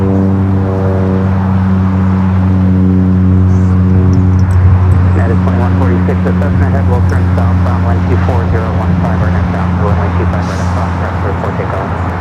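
Southern airline jet at LAX airport rumbling steadily and loudly nearby, with a droning engine hum that holds for the whole stretch, while people talk over it throughout.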